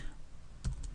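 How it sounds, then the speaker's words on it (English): A few quick keystrokes on a computer keyboard, soft clicks bunched near the end of a short, quiet moment. "I'm going to type in Monday"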